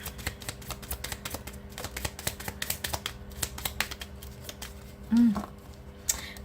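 Tarot cards are shuffled by hand in a rapid run of crisp riffling clicks, close and quiet, ending with a brief louder thump near the end.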